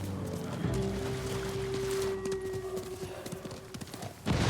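Horse hooves clip-clop at a gallop in the samurai video game Ghost of Tsushima, a steady rhythmic thudding under a sustained tonal drone and game ambience, moderately close.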